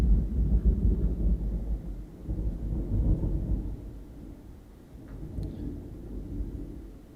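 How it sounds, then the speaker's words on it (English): Deep rolling thunder from a thunderstorm, a long rumble that swells and fades over several seconds, loud and close at first, then easing into a lower grumble with faint rain hiss and no voices. "when thunder gets louder, that means lightning is closer"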